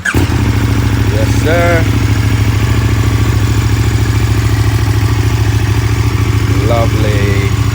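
A 2021 KTM Superduke 1290RR motorcycle engine runs loud and steady close by, a continuous throbbing rumble throughout, with brief voices speaking over it.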